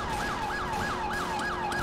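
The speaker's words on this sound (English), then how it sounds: "You gotta turn on your siren now." A video game police siren wails, sweeping up and down in a steady repeating cycle, loud and continuous, over a constant low rumble of engine noise.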